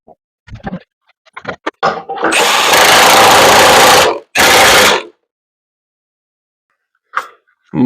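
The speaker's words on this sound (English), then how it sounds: "I'll drill through the holes in the angle iron and bolt this board into place" After a few clicks and handling knocks, an electric drill whines loudly in a long burst boring through angle iron, pauses, then runs again for a shorter burst.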